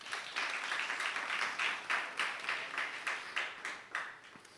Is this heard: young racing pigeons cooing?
no